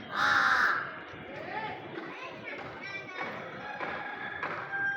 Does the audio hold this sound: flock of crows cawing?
yes